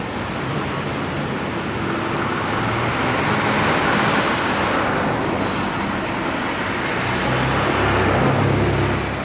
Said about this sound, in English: The traffic noise of the main street dominates the village.